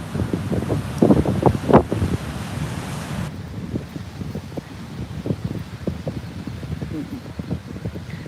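Gusty wind at a beach buffets a microphone with rough low rumbles, while a person talks over it in short bursts.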